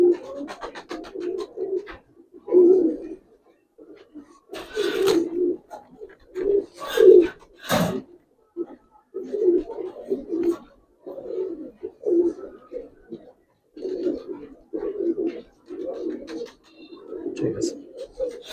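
Palla line pigeons in a loft coo in repeated low throaty phrases, close and clear, with a few scratchy rustles and brief bright noises between the calls.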